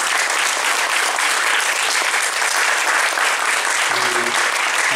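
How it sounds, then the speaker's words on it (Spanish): Loud, dense applause from an audience at a tribute luncheon honoring a teacher, sustained evenly throughout with a faint voice briefly audible underneath near the end. "quiero que les dé a todos pues, un fuerte aplauso"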